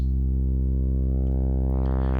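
Arturia CZ-V software synth tone sweeping from a pure sine toward a buzzy sawtooth, a single sustained loud note whose brightness steadily grows as the waveform morphs, with no voices.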